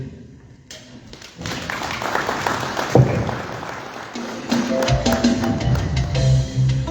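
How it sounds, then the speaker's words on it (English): An audience applauds at a central bank event as the governor takes his seat, a steady mass of clapping that swells, then continues under murmured voices. "Let's continue clapping our hands."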